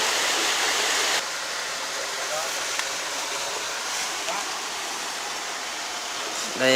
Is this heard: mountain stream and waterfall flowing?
yes